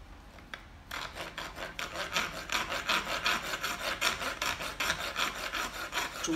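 A hand file rasps a plexiglass slingshot frame resting on a piece of wood, making steady rhythmic back-and-forth strokes, close and fairly loud, after a brief quieter start, with no talking.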